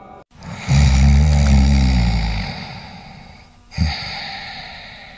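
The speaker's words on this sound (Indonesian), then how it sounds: "tiba-tiba di luar jendela itu terdengar suara mendengkur lagi" A single deep, rumbling snore from outside a window, drawn out for a couple of seconds, followed by a shorter snort-like breath, close and alone.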